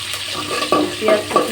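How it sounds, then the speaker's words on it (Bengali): Homemade dried fish and chopped onion fry in a pan, with a close sizzle and a few rhythmic stirring scrapes over the short stretch. "আর শুটকিগুলো খুব ভালোভাবে একটু ভাজা নেওয়া লাগবে"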